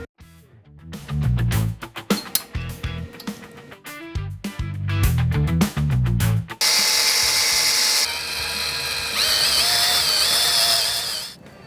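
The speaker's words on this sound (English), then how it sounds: "It's got some locator pins, so we need to drill them in our axle plate." A power drill boring locator pin holes into the axle plate of a 7.5-ton truck, starting with short stuttering bursts, then settling into a loud sustained whining grind.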